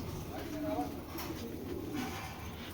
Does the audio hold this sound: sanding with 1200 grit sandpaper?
no